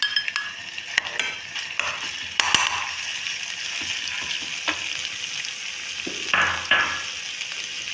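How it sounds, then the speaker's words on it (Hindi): Garlic and green chili paste frying in a pan for a home-cooked dal chawal meal, a steady sizzle with occasional stirring clinks and scrapes, close and unbroken, with no talking. "अब मैं इसमें ये लहसुन और सब्ज़ मिर्चों का पेस्ट डाल दूँगी। इसको थोड़ा सा फ्राई करना है।"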